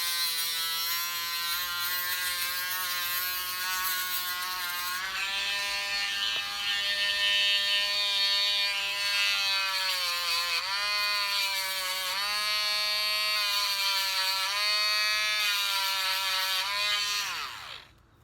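Dremel rotary tool running at a high-pitched whine while cutting polystyrene, steady and close with slight pitch dips as it bites, then spinning down at the end.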